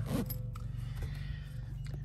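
A zipper on the canvas of a VW Eurovan camper pop-top tent is drawn in a couple of quick rasping pulls, close and fairly loud, with no talking.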